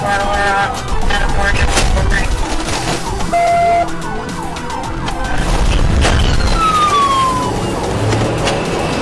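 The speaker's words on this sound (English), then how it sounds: "Multiple patrol units joined the pursuit, their sirens echoing across the city." Several police patrol cars in a high-speed city pursuit blare their sirens together, loud and close, with overlapping wailing and yelping tones over engine and road noise throughout.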